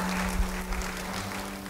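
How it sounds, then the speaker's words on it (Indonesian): Brief, soft applause from a church congregation, a diffuse patter of hands over a steady electrical hum, short and fairly distant. "Yang setuju beri tepuk tangan bagi dia"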